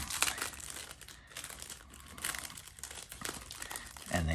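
Crinkling plastic packet of small 3M VHB adhesive stickers being handled up close, with irregular crackles and rustles, quiet and with no talking.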